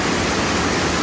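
A waterfall swollen by heavy rain roars in a constant, loud, broadband rush that fills the short span without a break, and nobody speaks.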